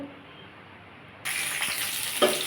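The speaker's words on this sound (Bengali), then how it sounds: "এই তেলের মধ্যে আমি পটলটা ভেজে নেব" Pointed gourd (parwal) drops into hot oil and breaks into a sudden steady sizzle partway through, loud and close after a quiet start, with no talk.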